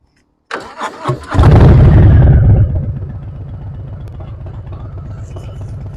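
A 2019 Harley-Davidson Softail Street Bob engine cranks over after a few clicks, catches with a loud revving burst, then settles into a steady, throaty idle with a pulsing exhaust.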